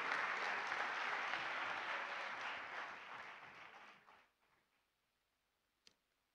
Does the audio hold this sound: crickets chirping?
no